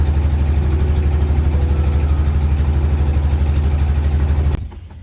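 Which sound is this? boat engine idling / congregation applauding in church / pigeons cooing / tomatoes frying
boat engine idling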